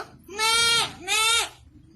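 Goat bleating twice in quick succession, loud and close, two long wavering calls separated by a short gap.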